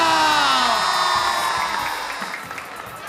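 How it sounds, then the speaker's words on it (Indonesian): Loud crowd of high school students cheering and applauding at a school stage event, a dense wash of shouts and clapping that starts strong and gradually thins toward the end. "Kita kasih tepuk tangan dong"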